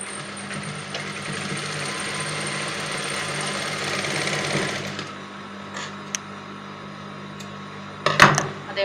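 A sewing machine stitching a churuk frock runs in a steady close whir for about five seconds, then stops; a few faint clicks and a brief clatter of handling follow near the end.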